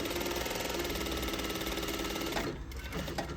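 A sewing machine runs steadily as it stitches a back tack at the end of a half-inch seam, a loud, close, continuous mechanical whir with a dense rhythmic pulse, then a short stop and restart near the end.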